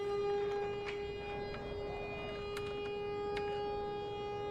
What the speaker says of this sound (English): there's a siren